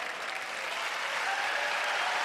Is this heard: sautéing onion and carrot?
no